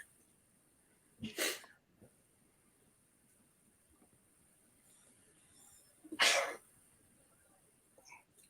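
Two sharp sneezes about five seconds apart stand out against a quiet room, with a faint short sound near the end.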